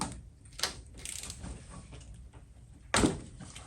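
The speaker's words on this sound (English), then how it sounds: "First, crack the bolt." A 17 mm oil drain bolt on a 1998-2001 Yamaha R1 motorcycle is cracked loose with a wrench, a couple of short metallic clicks and a sharp snap close by, with faint handling noise between.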